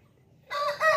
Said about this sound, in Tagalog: Ano pala nito, manok?